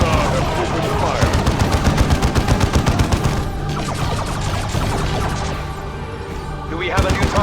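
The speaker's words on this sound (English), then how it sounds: "Eldar have opened fire." Eldar weapons fire in a Dawn of War II battle: rapid, sustained bursts of gunfire crackle in quick rhythmic volleys, easing briefly midway and then flaring again, mixed with other battle effects.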